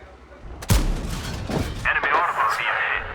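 A single sharp, close blast from the Strv S1 tank gun in World of Tanks, followed by a rumbling tail, with a voice talking afterward.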